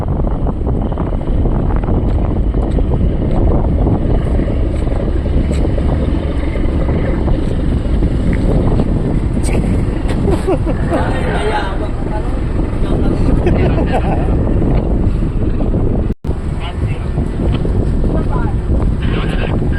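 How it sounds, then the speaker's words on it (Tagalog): Strong wind buffets the microphone with heavy low rumbling gusts throughout, briefly cutting out near the end. "malakas yung hangin kasi minsan sasapawan ng lakas ng hangin yung boses ko"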